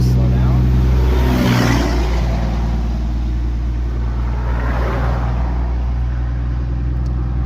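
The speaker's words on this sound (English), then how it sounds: "here comes a semi-truck" A semi-truck passes on the road: a loud, broad rumbling whoosh sweeps by close up over steady engine hum, with a person talking throughout.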